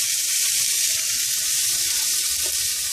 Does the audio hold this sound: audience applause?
no